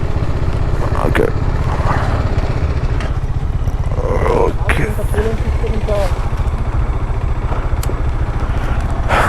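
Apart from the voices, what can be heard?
motorcycle engine while parking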